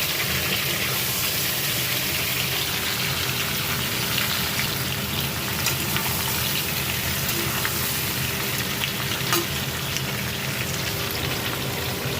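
Potatoes fry in oil in a wok, giving a steady, dense sizzle that stays even and close throughout with no voices.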